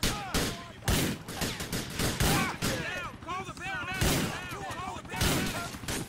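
Gunfire in the video game GTA 4 comes as repeated sharp bursts of shots at an uneven rhythm, loud and close, with voices talking between and over the shots.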